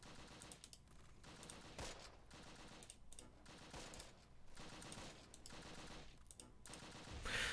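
Machine-gun bursts and rifle fire rattle in the WWII strategy game Close Combat: Battle for Caen, rapid repeated volleys in uneven bursts at moderate distance, with no talking over them.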